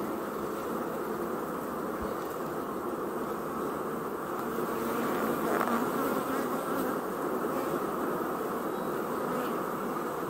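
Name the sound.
honeybees buzzing during a beehive inspection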